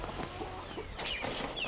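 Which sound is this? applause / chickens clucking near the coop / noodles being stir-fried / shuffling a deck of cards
chickens clucking near the coop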